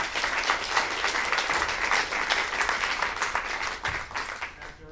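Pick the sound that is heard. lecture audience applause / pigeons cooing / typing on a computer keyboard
lecture audience applause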